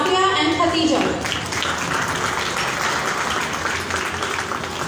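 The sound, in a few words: audience applause for two participants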